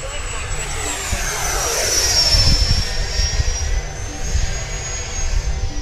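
A Freewing Eurofighter RC electric ducted-fan jet spools up under throttle, its high whine rising and holding over rushing air and low rumble, loud and close outdoors.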